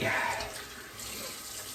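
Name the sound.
tap water running for a cold water rinse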